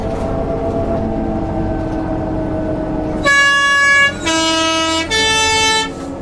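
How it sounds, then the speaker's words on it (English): A Swiss train horn sounds in three short, loud, bright tonal beeps, with the middle one longest, after several seconds of steady rumbling from the moving train. "The train's only got a little beep beep sound."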